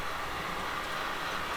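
HO scale model train running on a layout, giving a steady, even rolling hum with faint rail clatter, continuous and fairly quiet with no voices.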